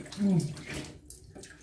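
Warm water splashes and runs as a face is rinsed at a sink, a short burst of wet sloshing and trickling heard close up, fading toward the end.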